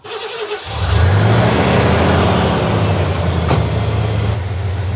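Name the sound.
car engine started and revving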